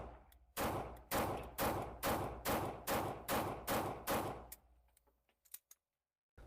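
Norinco NP34 pistol, a SIG 226-style design, fired rapidly: about nine sharp, loud shots in a steady fast cadence, followed by faint clicks and clatter.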